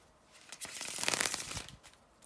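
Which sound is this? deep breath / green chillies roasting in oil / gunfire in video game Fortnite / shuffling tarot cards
shuffling tarot cards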